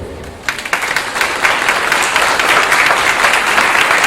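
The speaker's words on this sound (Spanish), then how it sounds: "el doctor Miguel Ángel Cancino, para quien pide un fuerte aplauso." Audience breaking into loud applause at an event, a few scattered claps quickly building into dense, sustained clapping that holds steady to the end.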